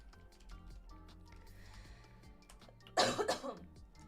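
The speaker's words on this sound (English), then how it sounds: "Of course, I start coughing right when we do stream." One sudden, loud burst of harsh coughing, two or three rasping hacks close to the microphone, breaks into an otherwise quiet indoor background.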